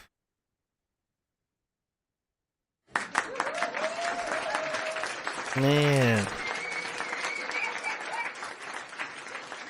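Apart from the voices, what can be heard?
applause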